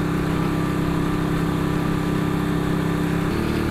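A 1959 BSA motorcycle cruises at about 56 mph on a dual carriageway, its engine giving a loud, steady, droning note with constant wind rush throughout and no speech.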